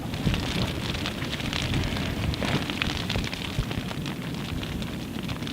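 Steady rain patters on a tent during a gale at a coastal wild camp, a dense, even hiss of drops with no pauses, close and fairly loud, and no voices.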